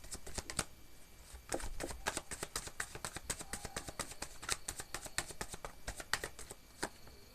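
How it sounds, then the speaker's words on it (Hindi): Tarot cards are shuffled by hand in quick, irregular riffles and taps, a close, soft patter of card edges continuing steadily with no talk. "Okay, let me shuffle."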